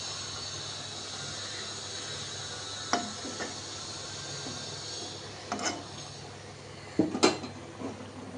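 A metal lid set onto a cooking pot in a home kitchen, with a few short clinks and a louder rattling clatter near the end, close up over a steady low hiss.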